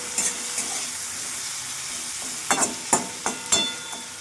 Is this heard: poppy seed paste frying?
yes